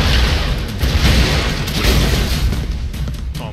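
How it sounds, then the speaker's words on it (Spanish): Explosions boom continuously in the action video game Broforce, a dense, loud rumbling barrage of blasts and crashes with no pauses. "todo explota aquí, este. Todo explota"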